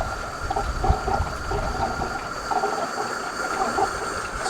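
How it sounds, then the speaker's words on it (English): Pressurized water hisses and gushes as it drains from a pool filter pump, a steady close rush with faint sputtering pulses and no talk. "See it's starting to drain from the pump."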